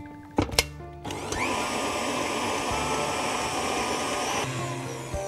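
An electric mixer whips eggs, sugar and vanilla for a mint cake, starting after a couple of clattering knocks and running as a steady, loud whirring drone that slows slightly near the end.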